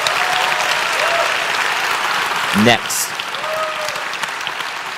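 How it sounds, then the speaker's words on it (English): A live audience applauds a speaker at a Mindvalley University event, a dense burst of clapping that tails off with a brief spoken word at the end. "Please give Jimmy a big round of applause."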